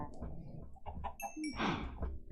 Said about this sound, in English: We got some baby chickens.